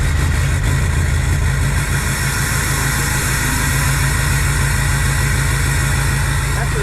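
A steady, loud diesel idle from an LML Duramax pickup fitted with a PPE exhaust tip, a continuous low throbbing drone close to the microphone with no talk over it.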